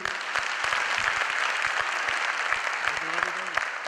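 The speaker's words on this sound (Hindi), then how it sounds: "सो जबरदस्त तालियां एक बार कपिल सर के लिए।" An audience claps for Kapil sir at a Modicare business opportunity meeting, a steady, fairly close crowd applause with a few sharp individual claps, and a voice speaks briefly over it near the end.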